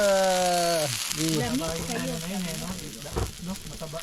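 Fresh-caught fish frying in its own oil without added fat during an island-hopping trip, a soft sizzle running under an excited, nearby voice.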